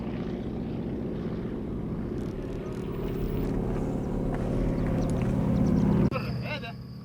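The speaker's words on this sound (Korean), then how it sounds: "비행기가 밭 쪽으로 저공비행을 하며 다가온다" A crop-spraying airplane flies low over a farm field in a desert-locust outbreak, its steady engine drone building in loudness as it approaches, then cutting off abruptly near the end.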